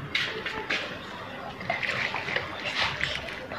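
Dirty water leaking and splashing outdoors, irregular splatters and sloshes of moderate loudness, with voices in the background.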